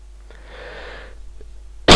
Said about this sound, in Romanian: Scuzați din nou strănutul.